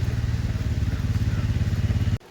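A motorcycle engine runs steadily close by with a throbbing, pulsing rumble on a road detour toward Vagamon, then cuts off abruptly near the end.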